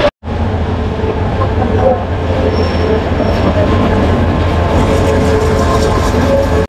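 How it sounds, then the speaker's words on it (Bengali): Train pulling away from a Bangladeshi station, a loud continuous rumble of wheels and carriages with a faint high squeal, close by and unbroken from start to finish. "এই যে আমাদের ট্রেন চালু হয়ে গিয়েছে।"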